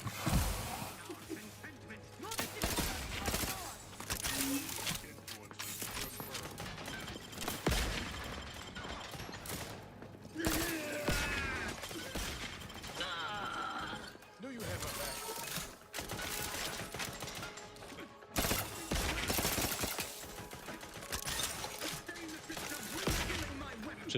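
Bursts of gunfire in the shooter The Outer Worlds 2 come in repeated volleys, mixed with mechanical clanks and whirring from a giant robot and other busy combat noise, steady and dense throughout.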